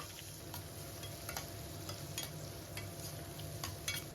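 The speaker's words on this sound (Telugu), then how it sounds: "ఉల్లిపాయ ముక్కలు లైట్ గా ఫ్రై అయ్యాయి" Onion pieces with mustard seeds and cumin frying in hot oil, a steady low sizzle with light stirring clicks throughout, fairly quiet and close, no voices.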